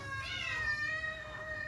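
A cat meows once in a faint, drawn-out wavering call, with a low background hum in an indoor kitchen.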